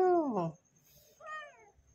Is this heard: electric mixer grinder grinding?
no